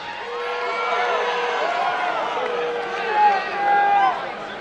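A crowd at an outdoor cage fight event cheers and whoops in a sustained roar that swells louder near the end, with many voices shouting together.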